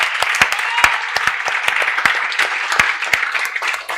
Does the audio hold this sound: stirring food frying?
no